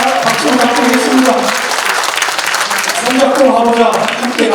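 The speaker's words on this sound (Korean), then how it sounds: "박수 부탁드리겠습니다." Applause from an audience at a book launch celebration, a steady wash of clapping under a voice talking over it through most of the stretch.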